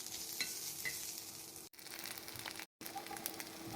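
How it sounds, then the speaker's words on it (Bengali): Chopped onion and green chilli fry in hot oil for prawn bhuna, a bright, hissing sizzle close by with a couple of brief utensil clicks and two short gaps of silence. "লাল লাল হওয়া পর্যন্ত একটু ভেজে নেব।"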